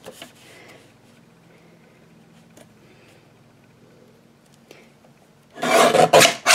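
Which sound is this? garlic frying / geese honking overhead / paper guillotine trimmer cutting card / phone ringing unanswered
paper guillotine trimmer cutting card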